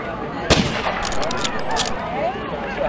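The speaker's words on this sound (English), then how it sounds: "Oh, a shot." A sharp rifle crack from the game JFK Reloaded, a single loud shot near the start followed by a ringing tail and a cluster of brief clicks over busy background noise.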